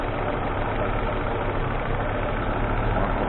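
A cold Volvo 850 car engine idles in a steady, loud, close-up drone with no change in pace, and no one speaks.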